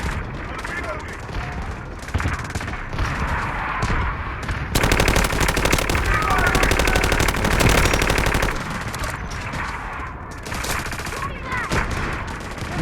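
AK-12 rifle fire in the shooter game Delta Force, loud rapid automatic bursts rattling almost nonstop through the clip, heaviest in the middle stretch.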